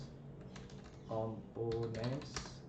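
Quick bursts of keystrokes on a computer keyboard while entering a command, set under a voice that talks through most of the moment.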